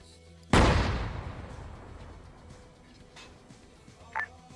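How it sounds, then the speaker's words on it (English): A single loud cannon blast in Arma 3 booms out, its rumble slowly fading, followed by faint background noise and a brief sharp electronic blip near the end. "there's already a cannon shooting at you guys."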